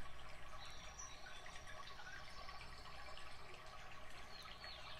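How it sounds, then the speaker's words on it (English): Soft, steady wash of water at a beach, a continuous faint lapping hiss with no voices over it. "and you hear the water beside you."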